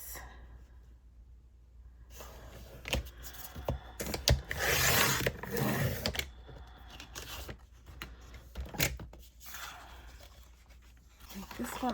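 A 9-inch piece of fabric or paper for tags and journaling cards is trimmed down to 6 inches, giving scattered close snips and papery rustling that swell into a dense burst midway, with a voice at times.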